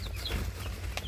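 One-day-old Tiger breed chicks, a multicoloured batch, give a few thin high chirps over a steady low hum in a brooding setup.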